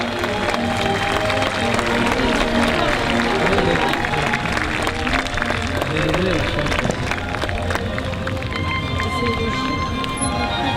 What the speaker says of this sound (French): On peut les applaudir, les dames.